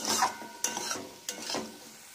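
A vegetable curry with a little added water is stirred in a hot pan: three distinct scraping strokes of a spoon over a continuous sizzle, close and fairly loud.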